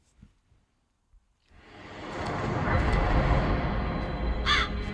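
A crow caws loudly at the opening of the Hocus Pocus 2 trailer, with a couple of faint sounds before a swelling rush of wind-like ambience and one sharp caw near the end.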